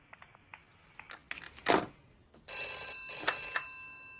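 A telephone bell rings in a tense scene from an Argentine film: a bright, repeating electronic trill sounds clearly for over a second at the end, after quieter rustling and tapping.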